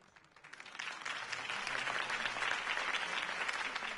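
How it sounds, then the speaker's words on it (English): Crowd applause for Harvey Dent's campaign speech in the Batman Telltale Series game rises from scattered claps into a sustained, dense ovation, loud and steady throughout with no talking. "If only Mr. Wayne, my campaign's largest backer, could have heard that applause"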